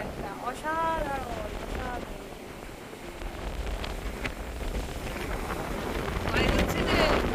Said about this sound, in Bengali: একদম হাওয়া।